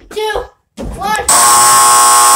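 A basketball scoreboard buzzer sounds at the end of the countdown: a loud, steady electronic blare that starts abruptly after excited voices and holds to the end.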